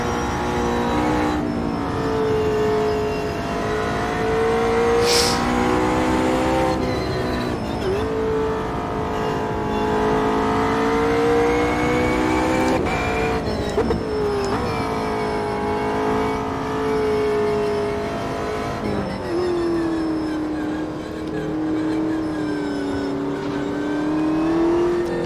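Race car engine lapping Bathurst in the sim racing game Assetto Corsa Competizione, a steady loud engine drone that rises and dips through gear changes and corners for the whole stretch, with no talk.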